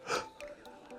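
A runner demonstrating a 2-1 rhythm breathes in with short, audible sniffing breaths, a strong inhale followed by a few quieter sharp sniffs, close and alone with no talk.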